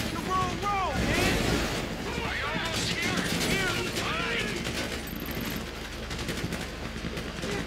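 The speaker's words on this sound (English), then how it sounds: "You hear that gunfire?" Gunfire erupting during the Paleto Score bank heist in the video game GTA V, loud bursts and rattling shots over a dense noisy battle scene with shouting voices and wind noise.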